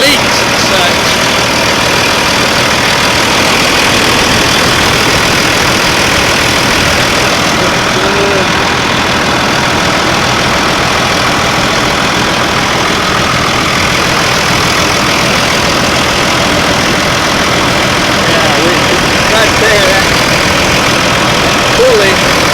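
A 2002 Ram pickup's 24-valve Cummins diesel idles steadily and loudly throughout, a continuous broadband engine drone close by after an engine change.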